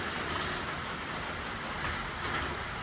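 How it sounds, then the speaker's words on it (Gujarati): Dense, steady rain pouring down in Mehsana, a continuous broadband wash of drops with no voices. "મહેસાણામાં જોરદાર વરસાદ પડે છે"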